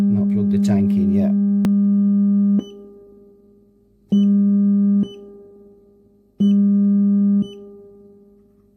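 A steady sine test tone plays through a Fender Blues Junior guitar amplifier with its reverb turned up, repeating as sustained loud blocks that cut off into ringing reverb tails, after a brief burst of clattering at the start.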